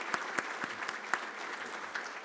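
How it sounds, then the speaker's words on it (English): A conference session audience gives faint, distant applause, with scattered individual claps standing out over a soft wash of clapping. "and a huge round of applause"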